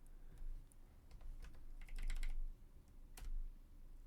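Soft, close typing on a computer keyboard, with irregular clusters of light key clicks and small pauses between them, faint and without voices.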